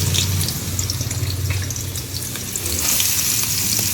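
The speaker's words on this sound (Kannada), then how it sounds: "ಸೊ ಈಗ ಎಣ್ಣೆ ಕಾಯ್ಲಿಕ್ಕತ್ತ ನಾನು ಈರುಳ್ಳಿ ಒಗಿತೆ." Chopped onions sizzle steadily in hot oil in a pan, a loud, close, continuous frying hiss with crackles and no talking.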